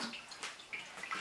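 Water is poured from a cup into a pot of rice while making sushi rice, a faint, close splashing trickle that comes in uneven bursts, with no talking.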